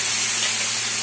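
Water poured onto hot fried spice paste for a Bengali fish curry (pona macher jhol) gives a loud, steady burst of steamy hissing sizzle, brief and close.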